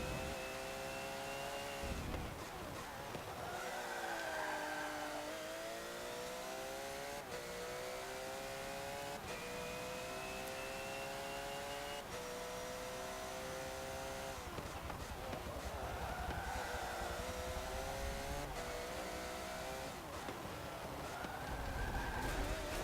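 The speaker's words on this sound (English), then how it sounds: "This is a racing car, it's got plenty of aerodynamics going for it." A racing car engine from the Forza Motorsport 7 video game screams loudly through repeated climbs up the rev range, with gear shifts, throttle lifts and occasional tire squeal over a constant, dense engine roar.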